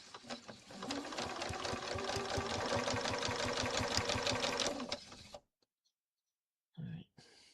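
A quilting sewing machine set to a reduced speed stitches in an even, rapid rhythm for about four seconds and then stops. A short burst of other sound follows the silence.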